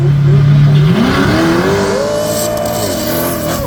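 A V8 Ford Escort and a BMW launch off the line at a drag race, engines roaring loud and close as the pitch climbs steadily through the gears, with faint tire noise near the end.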